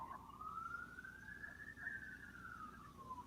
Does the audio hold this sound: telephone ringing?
no